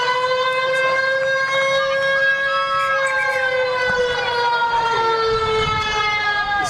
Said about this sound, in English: that is a siren to signify the suspension of play during clement weather